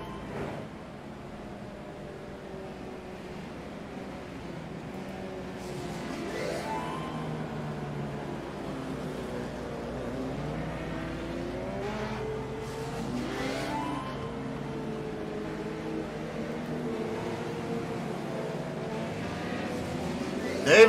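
Legends race cars lapping the track at Oxford, a pack of engines droning and revving with passing pitch sweeps, steady and fairly close, with commentary talk mixed in.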